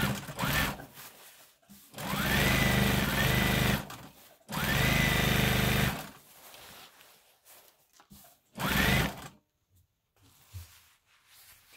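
A sewing machine hems a prom dress with horsehair braid, running in several bursts of a few seconds each with quiet pauses between, close and clear.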